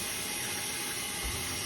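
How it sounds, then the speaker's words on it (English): Hot water pours steadily into a jar in a home kitchen, a constant dense rushing and gushing that fills the whole moment with no pauses and no talking. "So when we put the water in container or jar,"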